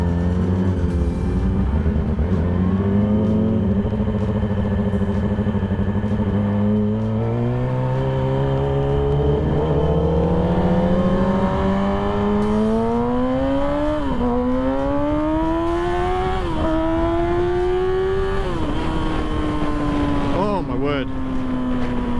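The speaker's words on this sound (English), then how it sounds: "It is a purpose-built race-winning track bike." A custom Yamaha R6 race track motorcycle engine revs and accelerates hard, its loud, close whine climbing through several gear changes with brief dips between shifts, running continuously and dominating throughout.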